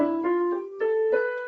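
A piano plays a short run of notes climbing a musical scale, each tone clear and close with a sustained ringing body, about four distinct notes and no talking.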